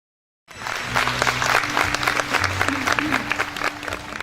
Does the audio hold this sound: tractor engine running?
no